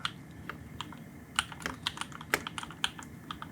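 Soft, irregular clicks and clacks of keys being typed on a mechanical keyboard, close and quiet against a low steady background hiss, with no talking.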